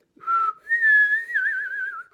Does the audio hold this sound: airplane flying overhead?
no